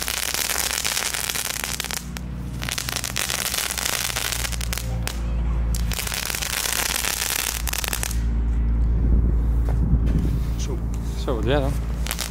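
Homemade fireworks going off in a string of sharp crackles and snapping bursts over about twelve seconds, loud and close, with a deeper rumble and a whistling squeal near the end, while people talk throughout.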